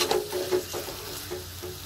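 Carrots dropped into hot oil with cumin, curry leaves and chilies sizzle steadily in a pan while being stir-fried for fried dhokla, a close, continuous frying hiss with soft stirring scrapes.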